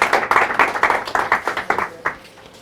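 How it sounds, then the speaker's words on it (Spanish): An audience applauds a speaker at a lecture: a short burst of brisk, fairly close hand clapping that thins out and fades within a few seconds. "vamos a aplaudir otra vez a Hugo"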